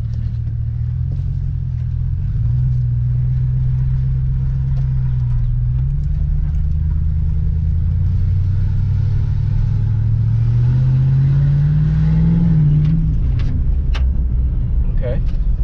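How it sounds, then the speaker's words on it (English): A car engine warming up in cold weather while being diagnosed for a ticking under load, a steady low idle rumble with gradually rising revs near the end, loud and close throughout. "I'm also gonna let the engine warm up to operating temp."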